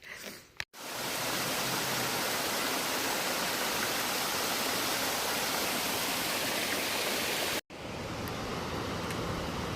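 Constant loud rushing water of the Pigeon River flowing nearby, steady and broad without variation, cut by two brief breaks.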